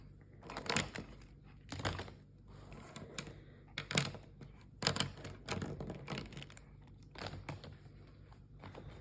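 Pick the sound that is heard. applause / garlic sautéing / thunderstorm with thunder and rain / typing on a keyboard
typing on a keyboard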